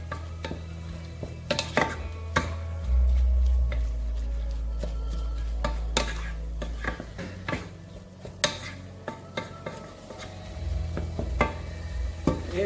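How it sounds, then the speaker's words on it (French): Beef samosas sizzling in a frying pan in a home kitchen, with a low steady fry under frequent clattering of utensils and pans, sharp clinks scattered throughout. "les samoussas est en train de cuire"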